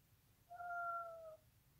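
A pet cat gives a single drawn-out, mournful meow lasting under a second, faint and somewhat distant over a quiet room hum.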